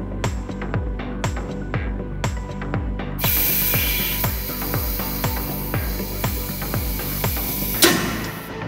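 Compressed air hisses steadily out of a quench valve as it is slowly vented, following a run of sharp rhythmic mechanical clicks and ratchet-like taps, then cutting off abruptly near the end.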